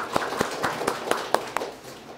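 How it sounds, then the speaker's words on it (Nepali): A small audience clapping at a weekly community gathering, sparse and uneven claps spaced out over a couple of seconds without talk. "हामी सबैले आफ्नो लागि ताली बजाउँदा एकचोटि"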